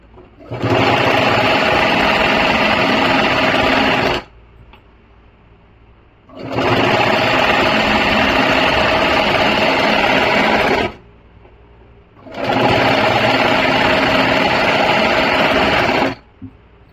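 An electric sewing machine stitches the hem of a kurti in three long, steady runs of loud, even whirring, each lasting several seconds with brief quiet gaps between, and no talking.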